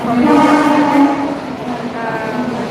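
A train's horn sounds loud and sustained, a droning tone that wavers and softens slightly, heard at Kurla railway station.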